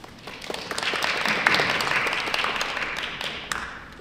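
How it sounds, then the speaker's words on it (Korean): An audience at a 2023 general meeting of the Jeju Baram association claps in sustained, moderately loud applause, an even patter of many hands continuing for several seconds. "큰 박수 부탁드립니다."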